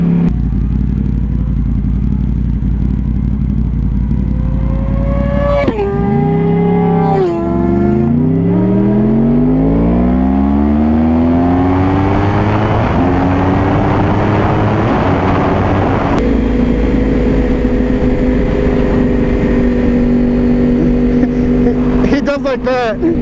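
A Yamaha R1 and Suzuki GSX-R 600 sport motorcycles race on twisty roads, engines loud and close, revving up and down in rising and falling whines through gear changes, with a sharp drop and surge midway.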